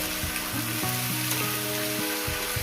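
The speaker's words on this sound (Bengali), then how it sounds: "আমি চার পাঁচ মিনিট এটাকে ভাজতে পারি" Fish head with spices frying in a pan, a loud, steady close sizzle throughout with a faint low hum beneath, no voices.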